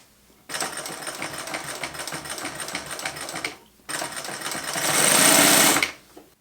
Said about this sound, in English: After I sewed the spacer mesh to the VX07, I sewed the wings onto the ends of that panel.